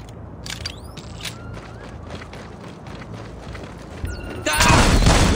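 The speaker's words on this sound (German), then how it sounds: "Die Schüsse kamen von da!" Rapid bursts of gunfire in Splinter Cell: Blacklist crackle over a steady background, with a loud, dense volley erupting near the end.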